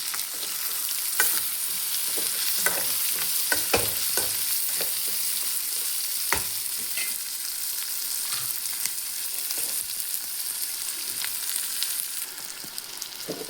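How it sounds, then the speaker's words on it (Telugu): Mutton pieces with a little chopped tomato fry in a pan, giving a dense, continuous sizzle and hiss with scattered scraping stirs, loud and close, no voices. "ముక్కలు బాగా వేగిపోయాయి"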